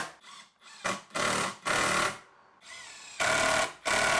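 Power drill driving screws into the wooden frame of a garden sofa, heard as repeated short bursts of whirring, each rising and cutting off, with brief quiet gaps between them.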